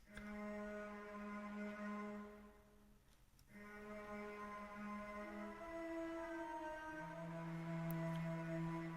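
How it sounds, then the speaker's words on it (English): A Memphis beat harmony drenched in Blackmagic reverb on the Charred K preset gives sustained, eerie, textured tones. A brief dip comes partway through, then the chords swell back quietly and alone. "And then adding the Blacmagic Reverb"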